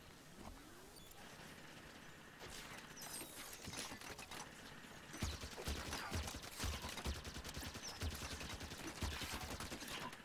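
Turret gunfire in the Halo 5: Guardians game, with rapid bursts of shots that grow louder and denser partway through and rattle on in repeated clusters; no one talks.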